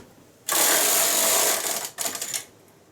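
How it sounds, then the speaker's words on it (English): A knitting machine carriage sweeps across the needle bed to knit a single row, a loud, close whirring rattle lasting about a second, briefly pausing, then a shorter clattering pass. "I'm going to knit 1 row."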